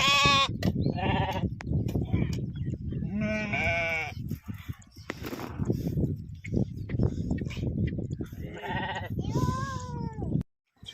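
Sheep bleat again and again, close and loud, their calls overlapping with shuffling and trampling noises in between.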